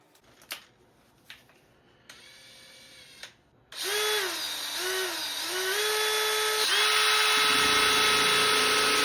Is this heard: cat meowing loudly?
no